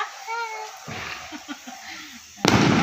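A firecracker bursts loudly at a Karthigai Deepam festival celebration, a sharp crack near the end that follows scattered smaller pops, with children's voices in the background.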